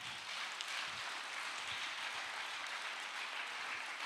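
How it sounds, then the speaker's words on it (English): A conference audience claps together in a big hall during a church men's conference session, a soft, even, distant patter of applause with no voices. "So a big hand clap to the Lord up there."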